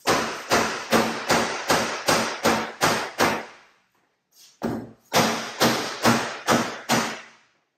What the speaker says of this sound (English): I'm going to tap on it with a hammer here, and it's going to shift over about a quarter to a half of an inch